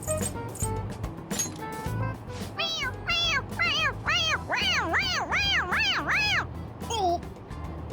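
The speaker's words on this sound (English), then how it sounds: "It meows when you press on its head." Toy cat in Persona 5 Royal meowing as its head is pressed repeatedly, a rapid run of about eight short rising-falling meows in quick rhythm, close and clear.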